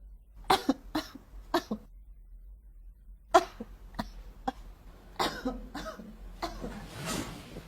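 A series of loud, exaggerated coughs, some in quick pairs, with a pause and then a rougher, drawn-out hacking cough at the end.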